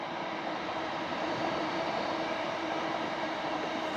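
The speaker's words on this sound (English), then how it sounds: "Another train, can you hear it?" A train passes at a distance near a quiet Scottish village, a steady low rumble and rolling hum that holds evenly throughout.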